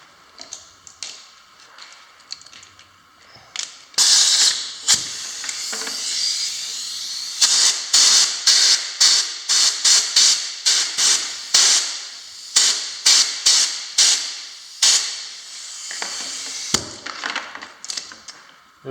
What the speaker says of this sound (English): take an air compressor, stick it inside here, and blow the screen out